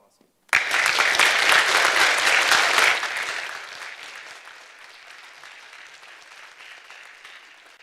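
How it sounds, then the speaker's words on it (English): Loud applause breaks out at a high school military enlistment ceremony after the oath, a dense burst of clapping that holds for a couple of seconds and then tapers into lighter scattered claps. "Let's give him a round of applause."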